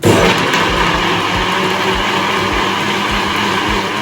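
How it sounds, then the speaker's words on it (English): A blender blending coconut whirs loudly and continuously at close range, its motor grinding with a rough, pulsing chop throughout. "I'm going to just add it to the blender now"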